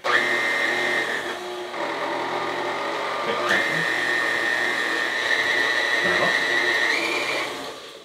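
Electric mixer whirring steadily through donut dough with egg and butter, a continuous motor drone with pitch shifts and a brief clunk midway, close and loud, easing off at the end.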